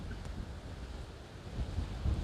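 Outdoor wind buffets the microphone on a farm in Israel, giving low, uneven rumbling gusts that swell and fade, fairly faint overall, with no talking.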